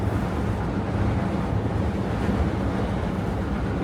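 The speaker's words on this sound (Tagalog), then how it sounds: "Ang lakas ng hangin" Strong wind gusting in the open in Edinburgh, Scotland, a loud continuous roar buffeting the microphone without a break and with no voices.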